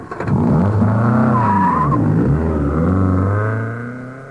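A car pulls away loudly and close in a radio drama effect, its engine revving and rising in pitch with a tyre squeal before fading off.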